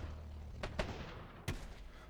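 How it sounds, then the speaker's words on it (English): An explosion goes off at the base of a tower in Airships: Conquer the Skies, an airship strategy game, heard as several sharp bursts. The loudest blast lands near the end over a low rumbling battle background. "Explosion at the base of the tower."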